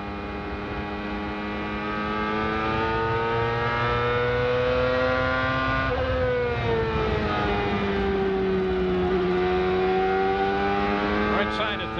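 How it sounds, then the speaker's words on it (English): An IndyCar race car engine heard onboard at the 2001 Lehigh Valley Grand Prix at Nazareth Speedway holds a loud, steady high-pitched whine, with pitch dipping and rising through corners over a continuous roar. "We're going to go on board, see how the engine sounds."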